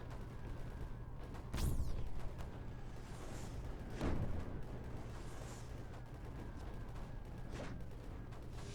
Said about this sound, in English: Keep throwing up more mortars.